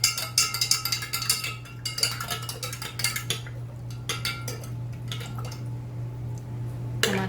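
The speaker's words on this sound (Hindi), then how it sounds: "अब इसको मिक्स कर लेंगे इस पानी में।" A spoon stirs cardamom sharbat syrup into water, clinking quickly and repeatedly against the vessel, then slowing to scattered taps, with faint liquid swirls close by and no talking.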